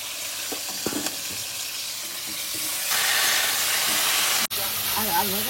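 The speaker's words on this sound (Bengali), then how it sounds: "চিংড়ি মাছটা হালকা ভেজে নিয়েছি, এবার তুলে নেবো" Prawns shallow-frying in smoking hot oil give a steady close sizzle and hiss with some stirring clatter, growing louder partway through before a brief cut, then continuing with a faint voice over it.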